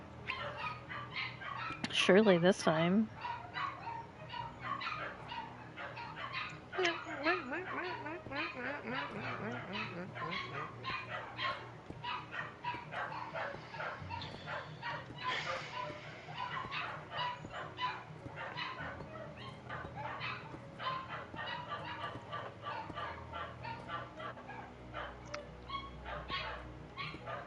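Dogs in a video game bark and yip in a short high burst near the start, with fainter barks later, all under steady talking and game noise.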